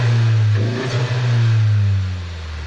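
A Honda Civic engine fitted with a custom race intake and larger MAF housing runs steadily up close, a loud low hum with a slight rise in revs near the start.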